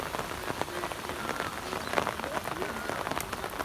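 Heavy storm rain pours onto surfaces beside a flooded river and bridge in the countryside, a dense, continuous hiss of drops drumming steadily without a break.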